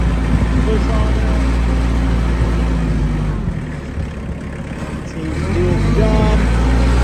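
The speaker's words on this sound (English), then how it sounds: "This one revs up by itself as you go." Challenger MT 285 B diesel 4x4 tractor engine revving, a loud continuous low diesel roar that dips briefly and then builds again, heard close by while someone talks over it.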